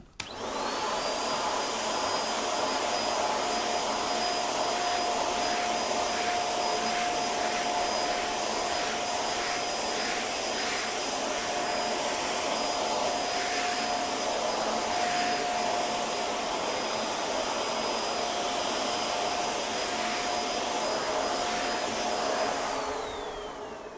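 Xiaomi Deerma DX800s stick vacuum fitted with a stiffer brush, cleaning salt out of a carpet, runs loud and steady for about twenty-four seconds with a constant high whine before it switches off.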